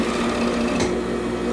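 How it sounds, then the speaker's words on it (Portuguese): Overlock sewing machine stitching knit fabric for a basic jersey top, a steady close whirring hum that runs continuously and loud without pause. "Aqui a gente tá fazendo na overlock."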